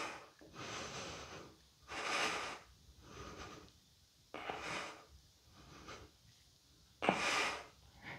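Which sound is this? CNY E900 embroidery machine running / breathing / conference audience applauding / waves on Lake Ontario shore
breathing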